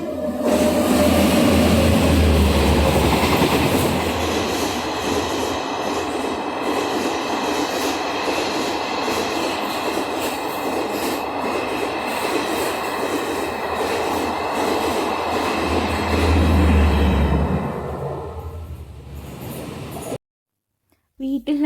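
Inside a passenger train bound for Kochi, a steady rumble of wheels and carriage runs throughout, with louder surges near the start and end before the noise drops away abruptly.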